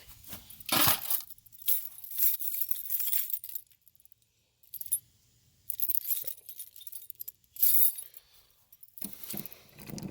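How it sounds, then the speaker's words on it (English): A large bunch of about thirty keys jangles and clinks in repeated metallic bursts, loud and close, with brief quiet gaps between shakes. "We carry more keys than we really need. I've probably got 30 keys on here"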